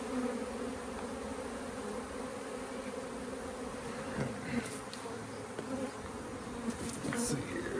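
A honeybee swarm packed into a swarm trap gives a steady, dense buzzing drone that holds at an even loudness throughout, with no one speaking.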